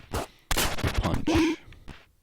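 Punchy bursts from the puncher gun in the video game Downwell, a few quick close blasts in an uneven rhythm with short gaps between them, loud and alone.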